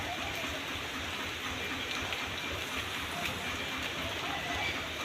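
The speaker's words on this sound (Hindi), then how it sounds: "चारों तरफ से बारिश ही बारिश हो रही" Steady rain falling, a constant hiss of drops that holds evenly throughout.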